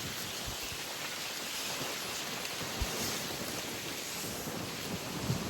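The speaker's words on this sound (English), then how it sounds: "obviously it's raining today" Steady rain pours down in a continuous hiss, with occasional heavier drops and low rumbles underneath.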